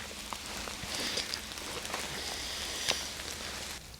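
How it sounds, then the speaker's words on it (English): Rain falls steadily on an oak tree in woodland, a dense, soft hiss of drops with occasional louder patters and drips, close and continuous throughout. "we've been sheltering under this oak tree for the best part of an hour because this rain just wasn't letting up"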